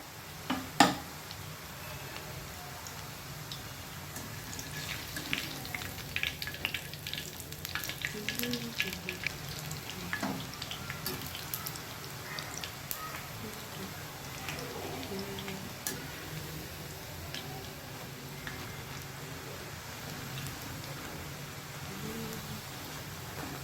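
Ribbon pakoda dough sizzles and bubbles steadily in hot oil, a continuous close frying hiss with occasional light clicks and stirring taps, no talking.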